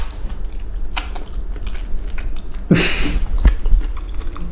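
Someone bites into crunchy, pan-fried golden food, a sharp crunch near the middle followed by several close, noisy chewing crackles, with no talking.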